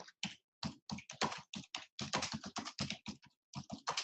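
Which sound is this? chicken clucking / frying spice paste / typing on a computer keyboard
typing on a computer keyboard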